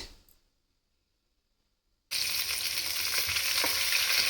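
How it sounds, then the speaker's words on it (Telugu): Sliced onions with spices frying in a hot pan for palak rice, a loud steady sizzle that bursts in suddenly after a quiet pause and continues without talk. "ఉల్లిపాయలను మంచిగా వేగనివ్వాలి"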